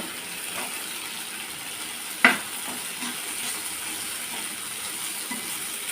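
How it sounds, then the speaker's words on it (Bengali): Small and large prawns frying in a pan, a soft steady sizzle with one sharp clack of a utensil early on and faint stirring scrapes afterwards. "তারপরে এই যে আমি চিংড়ি মাছগুলো রেখেছি ভেজে এগুলো দিয়ে দেব"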